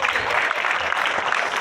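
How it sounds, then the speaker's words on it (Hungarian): Applause at a country line dance festival performance by a Debrecen line dance club, a dense steady wash of clapping hands throughout, fairly close and loud, with no one talking over it. "És köszöntetjük egy nagy tapssal."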